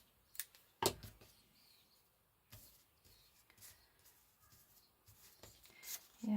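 Scissors snip through paper ephemera for a grungy crafting project, a few faint, isolated sharp cuts and rustles spaced across the quiet clip, with a soft voice heard at times.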